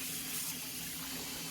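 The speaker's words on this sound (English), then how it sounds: "It's been a lot easier to do with the water going over it." Tap water pours steadily over pumpkin seeds being rinsed in a kitchen sink, a continuous, close rushing hiss with no breaks.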